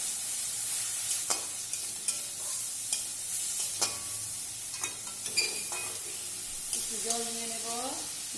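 Cumin powder and spices are stirred in a sizzling frying pan for a simple rohu fish curry, a faint steady hiss with repeated scraping strokes of a spatula at an even rhythm, and a voice speaking briefly near the end.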